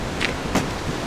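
Ocean waves wash beneath Crystal Pier at Pacific Beach, San Diego, in a steady, close broadband rush with a couple of slightly stronger surges and no voices.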